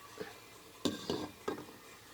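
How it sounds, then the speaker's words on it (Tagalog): A lid clanks down on a pot of sautéed mussels cooked with Sprite, with two or three quick metallic knocks in close succession, fairly close and quiet, with no voices. "Saka natin siya takpan ulit."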